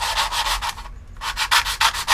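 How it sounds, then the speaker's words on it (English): Sandpaper is rubbed by hand over an Aeronca aircraft fuselage part in quick back-and-forth strokes, with a brief pause before the scratchy rhythm resumes close to the microphone. "You just sand that, and you turn the part"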